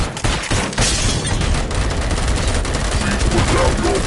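Rapid robotic gunfire from the ED-209 enforcement droid in RoboCop: Rogue City, a dense, loud, continuous burst of automatic shots close by for several seconds.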